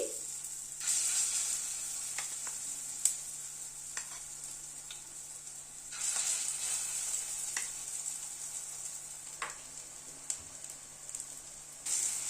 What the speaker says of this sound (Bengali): এই ডালের ব্যাটারটা থেকে অল্প অল্প করে দিয়ে একটা বড়ার মতো বানিয়ে নিচ্ছি।